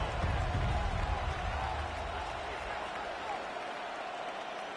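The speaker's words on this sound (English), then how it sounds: "This crowd into it now as we get to 3rd down." A stadium crowd in the Madden NFL 26 football video game roars in a steady, dense wash ahead of a third down, with no break across the stretch.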